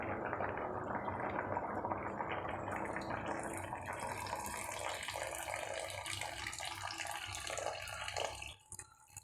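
Coconut milk poured into a simmering drumstick curry, a steady liquid pouring and bubbling hiss lasting several seconds before cutting off abruptly, quiet and close with no talk.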